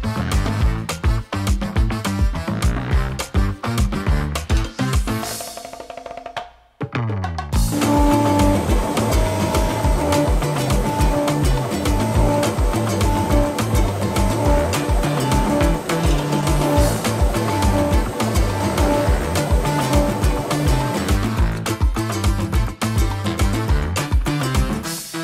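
CNC router engraving with a carbide-tipped V-bit, a loud continuous buzzing whine with rhythmic pulsing, briefly pausing near the start before resuming steadily to the end.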